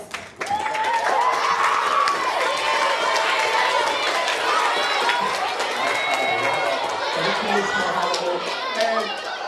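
A school poetry slam crowd welcomes Rhymefest with applause and cheering, a sudden loud burst of clapping mixed with excited chatter and shouts that stays steady and full for several seconds.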